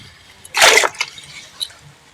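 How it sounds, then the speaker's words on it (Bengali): Clean water drains and splashes off freshly washed raw turmeric in a short gush lasting under a second, followed by a few faint drips. "একদম পরিষ্কার জল বেরোচ্ছে, দেখুন একটু নোংরা নেই।"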